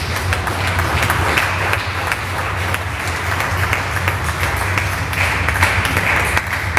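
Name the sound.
church congregation applauding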